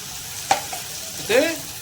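Tomato and onion with a little salt being stirred in a pan: two short scraping strokes about a second apart over a faint, low sizzle, close and fairly quiet, with no talking.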